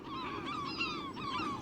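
North Atlantic gulls call repeatedly with rising and falling wails, fairly close and overlapping, with no voices.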